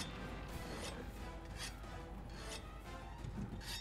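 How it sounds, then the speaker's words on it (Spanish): Rasping whetstone strokes on a hammer in the video game Monster Hunter World, several rhythmic scraping passes at a steady pace, faint and low under a dense game soundscape. "Lo que quería hacer era afilar el martillo."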